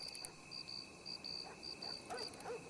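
Eerie cricket-like clicking ambience near dead bodies in Red Dead, faint repeated high chirps and clicks pulsing over a quiet night background, with no talk.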